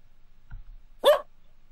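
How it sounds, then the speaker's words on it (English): Small dog giving a single sharp playful bark after a soft low grunt, close and isolated against near silence. "The small dog ran around in a circle before it stopped and barked at Naomi playfully, wagging its tail."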